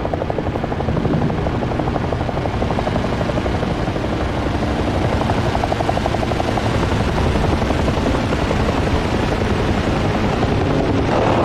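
A Ka-50 helicopter in the DCS World flight combat game thrums with a dense, steady rotor chop and turbine roar, loud and continuous, with no voices over it.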